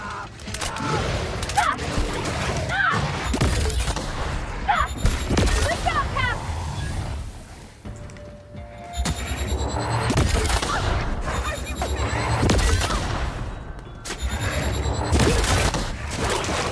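Gunfire in the video game The Outer Worlds, aimed at raptidons in a hotel, with repeated sharp shots and bursts scattered through sustained combat noise and mechanical clatter.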